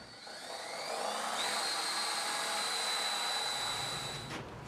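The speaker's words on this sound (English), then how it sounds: "we want to drill all the way through the foot rail into the strut" Power drill with a 1-inch Forstner bit boring through a wooden foot rail into a strut for a side-mount Murphy bed, a rising high-pitched whine that holds steady for several seconds and then cuts off, with no speech.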